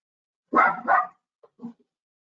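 A dog barks twice close and loud, then gives two short, softer yips before falling silent, with no other sound around it.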